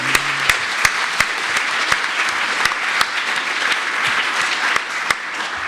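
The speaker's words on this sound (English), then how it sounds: "Another round of applause for Dr." Audience applause at a cocktail industry seminar on drinking chemistry, a steady wash of many hands clapping, moderately loud and continuous, with sharp isolated claps standing out and a brief voice at the start.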